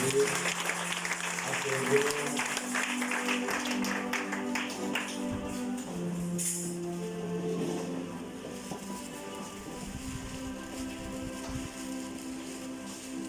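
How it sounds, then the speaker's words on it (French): Congregation applauding during a church service, a dense wash of many hands clapping that stays steady throughout and gradually thins toward the end, with musical tones sustained underneath. "Acclamons comme vous pouvez."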